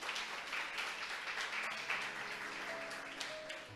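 Church congregation applauding: a soft, distant spatter of clapping in a reverberant hall, steady for several seconds and then thinning out as a faint tone comes in near the end.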